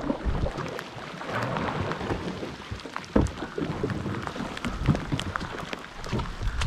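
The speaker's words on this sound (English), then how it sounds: "It's raining." Rain patters steadily over kayakers out on a reservoir while trout fly fishing, a dense continuous hiss of drops with occasional louder splashes and knocks close by, no talk.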